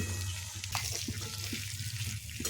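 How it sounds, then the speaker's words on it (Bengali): Cauliflower fries in oil, giving a soft continuous sizzle with a few light clinks, fairly quiet and close, with no speech. "এখন ফুলকপিটা ভেজে নিতে হবে, তাই ফুলকপিটাও তেলে ছেড়ে দিচ্ছি।"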